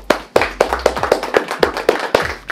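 Sparse, hand-by-hand clapping from a small group at an insurance agency's 2018 award ceremony: a couple of dozen distinct sharp claps in an uneven rhythm, fairly close and moderately loud, with no talking over them.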